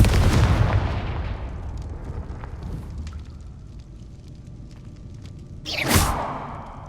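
Confringo blasting spell from the Hogwarts Legacy video game: a heavy booming blast at the start fades into a rumbling decay, and a second sharp explosive burst follows near the end, with no talk.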